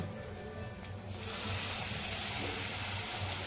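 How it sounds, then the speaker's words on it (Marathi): A steady rush of water pours into a pan that held paneer masala, the flow starting about a second in and continuing as a faint, even splashing gush. "त्याच भांड्यात थोडं पाणी घालते"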